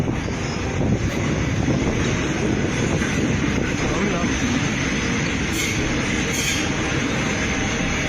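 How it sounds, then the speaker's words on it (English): A train rolls past a station platform with steady, continuous rumbling and clanking, with faint higher screeching bursts near the end, loud and unbroken throughout. "Judging by the clanking and screeching, it sounds like a train passing by"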